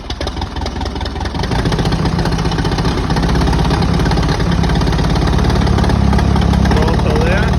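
A newly collected tractor's engine runs at a steady, loud, rough idle just after starting, a continuous knocking diesel chug that grows slightly louder and stays constant throughout.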